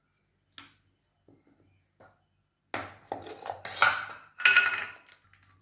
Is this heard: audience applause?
no